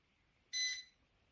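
A heat press timer gives a single short, high-pitched electronic beep that stands out sharply against a quiet room.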